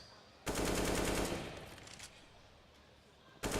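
AK rifle in a Counter-Strike match on Inferno, a loud sustained burst of automatic fire lasting about a second and fading into ringing echo, then a fresh shot starting at the very end.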